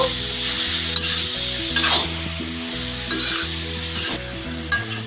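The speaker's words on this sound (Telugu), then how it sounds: "ఇది కూడా ఇది మొత్తం పచ్చివాసన పోయేంత వరకు ఫ్రై చేసుకోవాలండి ఈ నెయ్యిలో" Grated carrot frying in ghee for gajar halwa, a steady sizzle with repeated stirring under continuous background music, no talking.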